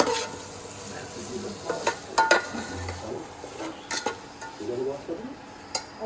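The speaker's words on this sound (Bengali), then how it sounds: "এবার এই ক্যাপসিকামটা দিয়ে দেবো, এটা দিয়েও কিন্তু একটু ভালো করে কষাবো।" Capsicum and chicken curry sizzling in a pan, with frequent scraping stirs and occasional clinks of a utensil against the pot, all close and fairly steady.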